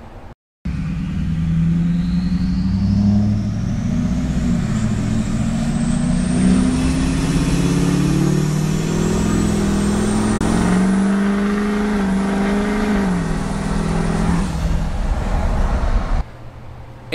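A Duramax diesel engine with an aggressive tune and a 4-inch straight exhaust revs loudly and close for about fifteen seconds, its deep rumble climbing and falling in pitch before cutting off abruptly.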